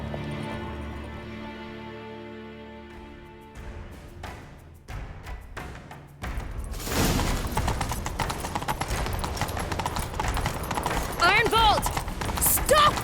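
Galloping horse hooves in the video game The Witcher 3 pound quickly and steadily up close during a chase, loud and continuous, after an opening stretch of music.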